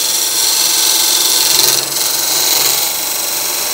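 Wood lathe turning a spindle while a negative rake scraper cuts a tenon across the grain, giving a steady, loud, close hiss and scraping whir that runs without a break.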